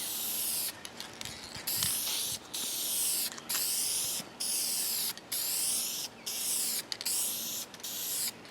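Paint sprayer coating the soft doors of an HMMWV Humvee, loud close hissing in steady bursts of about a second each with short gaps between, repeated evenly.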